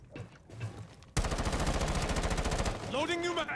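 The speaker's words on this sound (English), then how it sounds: "Just a couple shots." Automatic gunfire in the video game Rainbow Six Siege, a rapid close burst of evenly spaced shots lasting about a second and a half, with faint muffled sounds before it and a quieter warbling tone after it.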